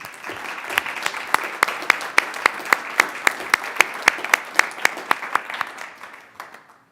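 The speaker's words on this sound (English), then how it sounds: "Let's give them one more round of applause" Audience at a council regular session giving a round of applause, with dense clapping and a prominent rhythmic run of loud, evenly spaced claps up front that gradually tapers off and fades out.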